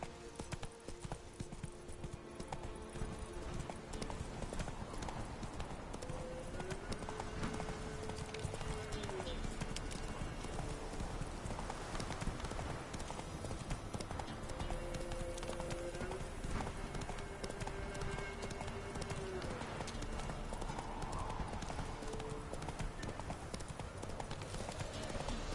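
Roach the horse gallops in The Witcher 3, hooves clip-clopping in a fast, continuous rhythm close by, with faint game music and ambience underneath.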